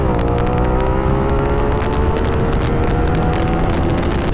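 A steady, loud motorcycle engine drones on an $800 bike during a test ride, its pitch rising slowly as it pulls along under constant wind noise.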